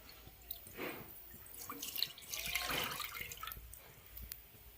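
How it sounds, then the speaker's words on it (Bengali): Milk pours into a pan holding a little water, a faint liquid splash and trickle that swells briefly near the middle and then fades into quiet drips. "পাঁচশো গ্রাম দুধ নিয়েছি দুধটা ঢেলে দিলাম"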